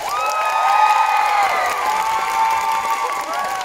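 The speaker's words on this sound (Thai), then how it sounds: "ขอเสียงปรบมือให้หน้ากากหนอนชาเขียวหน่อยได้ไหมครับ" A concert crowd at Aksara Theatre cheers and claps in a loud, sustained wave, with high-pitched screams and whoops ringing over the steady applause.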